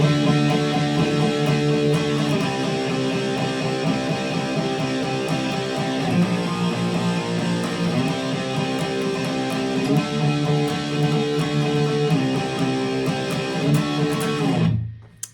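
Classic rock riff from 1973 played on electric guitar with power chords, repeating chunky chord phrases in a steady rhythm, loud and up close, ending abruptly.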